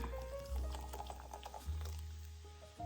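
Lemon-lime soda poured over the top of apples wrapped in crescent roll dough in a baking dish, a steady close liquid pour with small splashes and bubbling lasting a few seconds.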